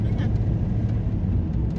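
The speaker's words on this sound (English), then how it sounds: "Horrible traffic." Road traffic in Trussville, Alabama: a continuous low rumble of passing cars and engines, steady and moderately close, with a voice talking over it.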